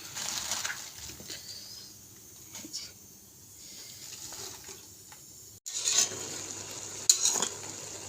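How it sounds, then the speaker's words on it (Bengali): Leafy greens frying with potato in a home kitchen pan, a steady close sizzle with stirring scrapes, turning louder and brighter partway through, with no voices. "শাক ভাজি করবো আলু দিয়ে।"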